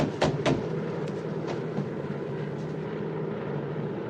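The engines of a DC-3 airliner drone steadily in flight, a continuous low rumble heard from inside the cabin, with a couple of brief knocks near the start.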